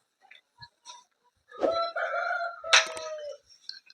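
In a poultry breeding pen, where one pure Peruvidai game rooster is kept with five hens per partition, a few soft clucks come first, then a loud nearby crow rises and falls, followed by quieter clucking.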